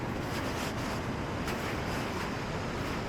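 Night-time ocean waves roll onto a beach, a steady broadband wash mixed with wind buffeting the microphone, with a few brief gusts standing out.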